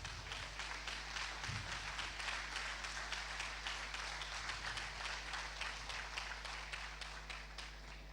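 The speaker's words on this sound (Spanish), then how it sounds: "Puede darle un aplauso al Señor." A church congregation applauds during a convocation sermon, a steady wash of many hands clapping at moderate distance that fades a little toward the end, with a low hum underneath.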